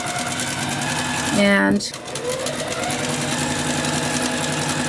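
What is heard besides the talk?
sewing machine stitching a tote bag seam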